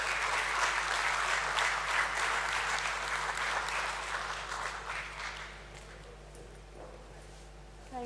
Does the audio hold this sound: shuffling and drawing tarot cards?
no